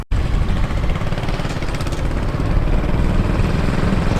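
A 420cc engine on an off-road go kart runs steadily and loudly up close, holding an even rumbling drone from start to finish with no talking.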